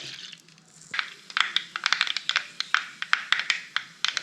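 Mustard seeds crackle in hot oil in a pan, beginning with a faint hiss and then bursting into a rapid, irregular run of sharp pops, close and fairly loud, with no voices.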